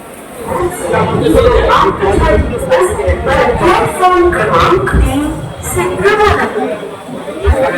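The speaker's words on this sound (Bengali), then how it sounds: "ট্রেনে কিন্তু ভালো ভিড় রয়েছে বর্ধমান থেকে ভালো ভিড় হলো ট্রেনে প্রচুর লোক ঢুকে যান" Dense crowd of passengers pushing aboard a Ganadevta Express train at Bardhaman station, with a steady, close hubbub of many overlapping voices and chatter filling the whole stretch.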